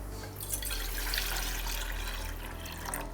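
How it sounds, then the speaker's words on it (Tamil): Water runs steadily into a container, a soft continuous splashing and gurgle close by, fairly quiet, with no voices. "இதில் தண்ணி ஊற்றிக்கிறேன்."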